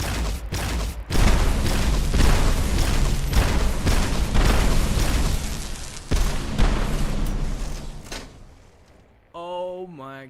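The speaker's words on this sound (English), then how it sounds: "It is an automatic grenade, plasma grenade launcher in essence." Plasma grenade launcher explosions in Fallout 4, a rapid string of loud booming blasts that roll on for about nine seconds before fading, followed by a short vocal sound at the end.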